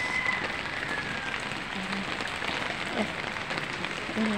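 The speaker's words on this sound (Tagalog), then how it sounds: "Ang lakas ng ulan guys." Heavy rain during Typhoon Carina in the Philippines, a dense continuous roar of rain pounding surfaces with scattered drips and splashes, loud and steady, with a few faint background sounds.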